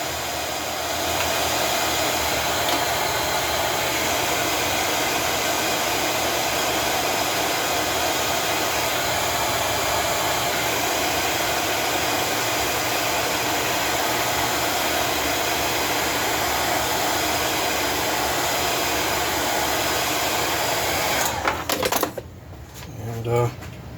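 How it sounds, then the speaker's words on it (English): A hot air blower heats Neotech material with a continuous loud, airy roar. The blast holds steady for a long stretch, then sputters and cuts at the end. A faint voice speaks beneath it. "I'm just going to heat this up real hot"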